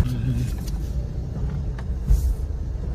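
A first-generation Toyota Agya drives along with a low, steady engine rumble from inside the cabin, with a few faint knocks and bumps from the road as the weakening rear shock absorbers knock.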